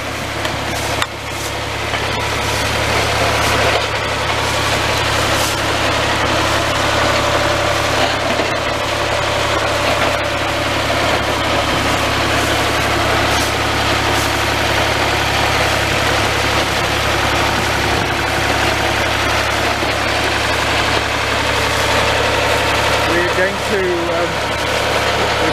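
A small bulldozer's engine runs under load during root pruning, a steady low, heavy diesel drone close by and continuous, with occasional mechanical clanks.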